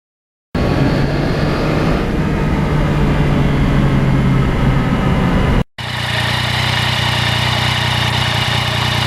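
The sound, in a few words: Yamaha MT-09 2020 motorcycle engine and exhaust while riding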